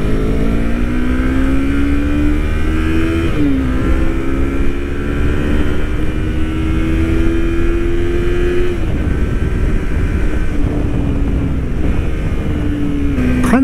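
A Yamaha MT-25 motorcycle engine revs hard toward high rpm, its loud rising whine climbing in pitch across gear changes, dropping briefly at each shift before pulling up again, close and without talk.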